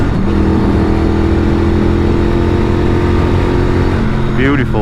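A 2023 Norton Commando 961 SP motorcycle's engine pulls loud and steady from low revs around 2,500–3,000 RPM, a continuous throbbing drone under wind noise, with a brief spoken exclamation near the end.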